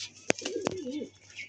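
A restless male pigeon gives a short rising and falling coo, faint and close, with a sharp click and rustle just before it.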